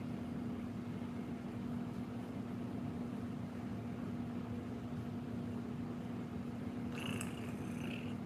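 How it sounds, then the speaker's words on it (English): A small pet cat, about 9 or 10 pounds, purrs in a steady, continuous low rumble close to the listener for the whole stretch, with faint brief rustling near the end and no voices. "Are you purring? Are you happy"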